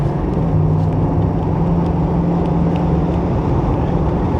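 A 1987 Chevy Monte Carlo SS, heard from inside the cabin while it cruises at about 45 mph. A low, steady engine drone mixes with broadband road and wind roar, loud and continuous, with no talk.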